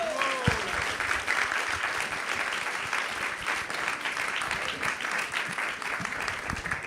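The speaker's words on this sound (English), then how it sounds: "please, a huge round of applause for our speaker today" A Sunday Feast audience at an ISKCON temple gives the speaker a sustained round of applause, dense and even, with a brief voice at the very start.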